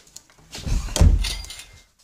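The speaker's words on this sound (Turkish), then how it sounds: "Kapıyı kapatayım." A door swings shut indoors with a soft rush of movement and a solid low thud near the middle, close by and moderately loud, then fades back to quiet room tone.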